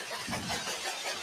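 A car engine in a film scene rumbles briefly and quietly as the car makes a full-throttle departure, giving a muffled, steady drone with no voices over it.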